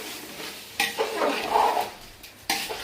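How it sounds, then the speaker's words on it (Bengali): Meat for biryani being stirred and sautéed in a pot, with a spoon scraping and knocking against the metal over a soft sizzle. The scrapes come in a few bursts close by, and no one speaks. "মাংস আজকে আরো ভালো করে কষিয়ে নিচ্ছি"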